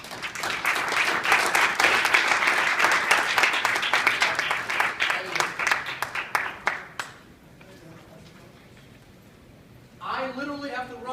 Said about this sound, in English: Everyone else give them a big round of applause.